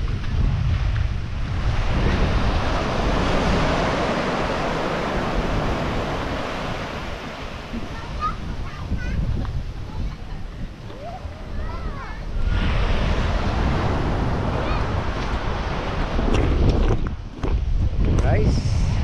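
Ocean waves wash onto the shore at Dingalan, Aurora, a broad continuous roar swelling and easing, mixed with heavy wind buffeting the microphone and some voices in the background.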